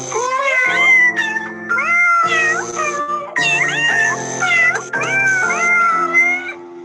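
Several cats meow in a sung, pitched chorus, rising and falling through long and short calls with brief pauses, loud and close with no talking over it.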